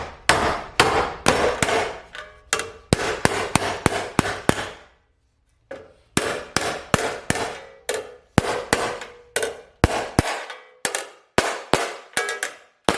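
Repeated hammer blows shape a metal bead on a rocker patch for a Mercedes 300 SEL 6.3, held in clamps: sharp, close metallic strikes land in quick bursts, pause briefly, then resume in steady runs.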